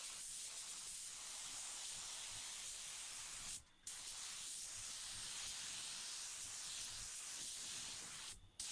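A Harbor Freight paint spray gun hisses steadily and loudly while spraying a car for a budget paint job, cutting out twice when the trigger is briefly released.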